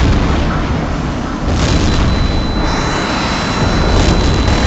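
A ground target blows up in the jet combat game HAWX. A deep boom rolls through a loud, continuous roar of jet engines that holds steady for the whole stretch.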